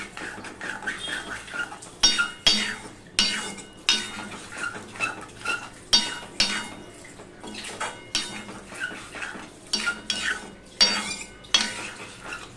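A spoon scrapes and stirs a vegetarian dish in a pan over a low gas flame, producing repeated rhythmic scraping strokes every second or so over a faint sizzle.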